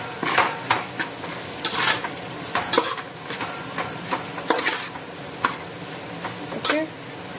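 Goan-style prawn chowmein is stirred and tossed in a frying pan, with repeated scraping utensil strokes against the metal over a steady background sizzle, close and fairly loud.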